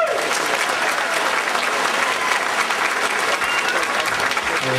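A crowd gives a good round of applause at a family music performance, dense continuous clapping holding steady at moderate level for several seconds, with faint voices underneath.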